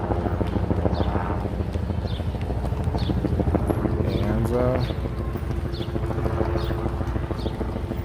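Carriage horses clip-clop along in Central Park, New York City, a faint, regular hoof rhythm under steady city hum and wind, with someone talking over it.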